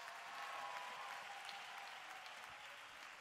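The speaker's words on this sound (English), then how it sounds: "Clap your hands and excited to be in the house." A church congregation applauds in a large room, a soft, steady wash of clapping heard from a distance for a few seconds with no voices on top.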